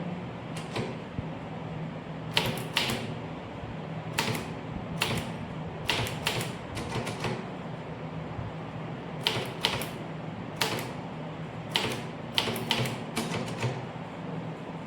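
Tamil text being typed on a manual typewriter: clusters of sharp, close key strikes and carriage clacks in irregular bursts separated by brief pauses, with no speech.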